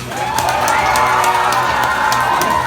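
A crowd of adults and children at Grant's Farm cheers and whoops for Frankie the sulcata tortoise before an animal race, loud, continuous and close, with shouted voices.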